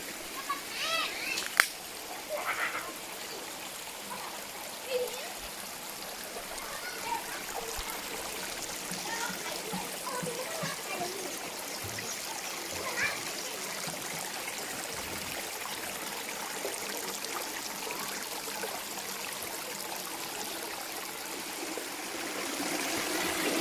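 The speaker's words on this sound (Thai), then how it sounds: "น้ำตกจรวด ครับ ผม" Rocket Waterfall, Nam Tok Jarawd, in dense jungle in Thailand, rushes in a steady, broad hiss of flowing and splashing water that fills the whole stretch, with faint voices now and then.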